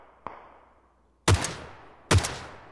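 Gunfire in the game PUBG on a snowy map: a faint distant pop, then two sharp loud shots about a second apart, each trailing off in a short echo.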